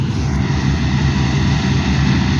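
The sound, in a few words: combine harvester engine running while threshing wheat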